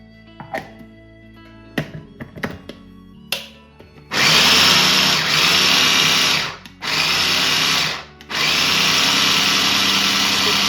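A mixer grinder whirs loudly as it beats garlic paste with added oil, running in three sustained bursts with short pauses between, after a few sharp knocks and clunks at the start.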